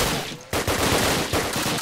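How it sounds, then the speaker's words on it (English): Gunfire in Call of Duty WWII sounds as loud, dense bursts of rapid shots, with a brief dip in the middle before the firing surges back and carries on steadily. "I don't know where they're shooting."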